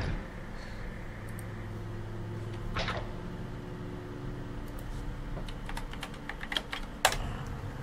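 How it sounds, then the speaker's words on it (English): Someone types on a brand new computer keyboard, giving scattered clicks over a steady background hum. Taps come sparsely at first, then cluster in a quicker burst near the end, one key hit sharply louder than the rest. "if you hear loud clicking, it's my brand new keyboard"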